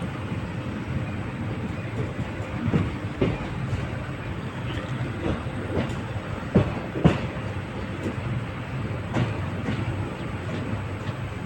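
A passenger train runs steadily along the rail line between Salem and Mettur, a continuous rolling rumble with faint rhythmic clicks of wheels on track joints, close and even throughout.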